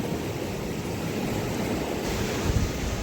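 Ocean waves washing onto a sandy beach at Chikni, a continuous soft roar of surf mixed with wind noise on the microphone, fairly faint and even with a slight swell near the end.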